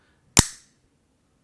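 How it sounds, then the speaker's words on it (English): DJI wireless mic snapping onto its strong magnet with one sharp, close click and a short ring, then a fainter tap a moment later. "when you just want to click it, there is a strong magnet"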